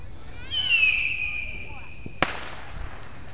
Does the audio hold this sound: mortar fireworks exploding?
yes